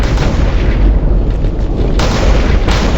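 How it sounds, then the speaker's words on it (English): A huge explosion from the Rival Rebels mod in Minecraft roars as a sustained, loud, low rumbling blast that fills the whole stretch without a break and without any talking. "The explosion radius gets bigger and bigger and bigger."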